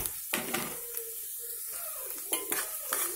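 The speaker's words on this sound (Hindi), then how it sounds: "इसके बाद इसे अच्छे से तलने देते हैं." Mustard seeds, cumin, urad and chana dal and dried red chillies tempering in hot oil in a pan, a steady close sizzle broken by a few sharp spoon-against-pan clinks and stirring scrapes.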